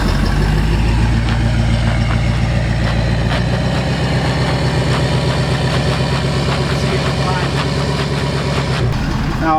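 Ford Powerstroke diesel truck idling and creeping through a tight turn with its rear differential locked, a steady low engine rumble with rhythmic clicking and scrubbing from the drivetrain, close by.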